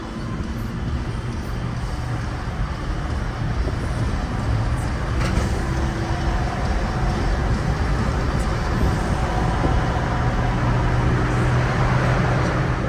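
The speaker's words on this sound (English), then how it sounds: "it's fucking slow ass traffic" Slow road traffic heard from inside a moving car: a loud, constant low engine and road rumble with passing vehicles, continuous throughout and without speech.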